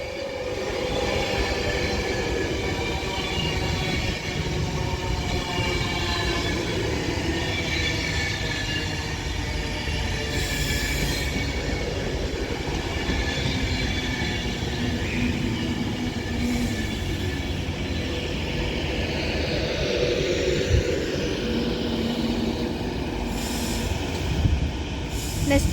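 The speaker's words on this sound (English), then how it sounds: "Now departing is going to be an Avanti West Coast Class 390 Pendolino with the service from London Euston to Glasgow Central" An Avanti West Coast Class 390 Pendolino departs a station with a long, steady rumble of rolling stock and intermittent wheel squeal, close and sustained.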